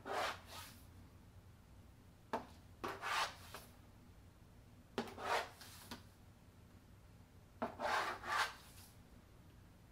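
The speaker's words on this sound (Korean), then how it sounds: "2인치 간격 정도로 쭉 선을 그려주세요" Chalk or a marker draws long lines across chiffon fabric laid on a table, giving soft scratchy rubbing strokes in short bursts of one or two at a time, quiet and close with pauses between.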